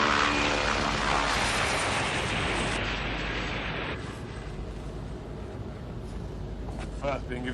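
A propeller aircraft roars loudly and steadily overhead while performing aerobatics, the engine drone fading somewhat midway, with voices talking beneath it.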